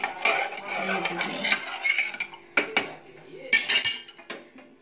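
A metal spoon scrapes and clinks against a pot while egg biryani is stirred with salt, giving close, irregular rattles and a few sharp metallic knocks.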